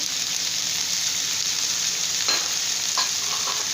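Chicken frying in a pan as capsicum and carrot go in, giving a steady, close sizzle with a couple of stirring scrapes near the end and no talking.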